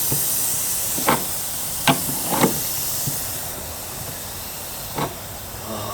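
A continuous loud hiss of escaping air fills the clip, broken by a few brief knocks and clicks.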